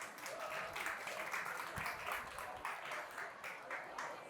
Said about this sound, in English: big round of applause, please, John Farron.